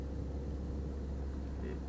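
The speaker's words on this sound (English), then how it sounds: "It be too much traffic on that side." City traffic on the drive from Brooklyn to Manhattan, heard from inside a moving car as a steady low road rumble and engine drone, with faint voices underneath.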